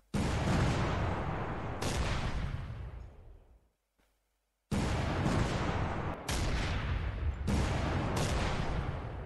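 Gunfire in the naval and military simulation game Command Modern Operations: loud, dense bursts of shooting and blasts that decay, break off into near silence for about a second, then resume as further heavy volleys.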